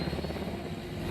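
A steady, loud helicopter rotor drone with low pulsing thrum, continuous throughout, close by, from the animated series Helluva Boss.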